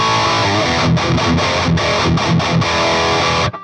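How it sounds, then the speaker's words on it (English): An electric guitar with lower-output pickups plays through a Peavey Bravo 112 all-tube combo amp set for high-gain distortion. It chugs in short, choppy chords with brief gaps, then stops abruptly with no voices. "This is fully capable of basically the highest gain tones you could want."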